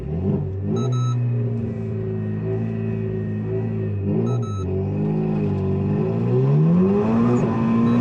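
A stage 3 Renault Megane IV RS Trophy R, front-wheel drive, revs hard for a launch start, its engine droning loudly up close, dipping at each gear shift and climbing steadily in pitch as it accelerates.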